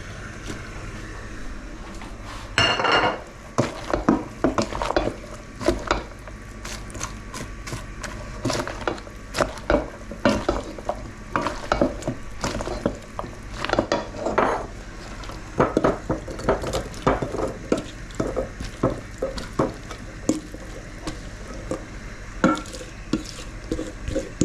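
Vegetables are added to a hot pan and cooked, with crackling sizzle, scraping and clattering stirring strokes in irregular bursts, close and moderately loud, no talk.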